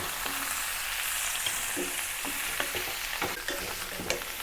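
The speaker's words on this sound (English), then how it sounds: "But for today's simplified version, I'll just add the pork ribs straight in." Pork ribs for a braised Chinese dish frying in a hot pan, a loud continuous sizzle broken by scrapes and clacks as the meat is stirred, close and without speech.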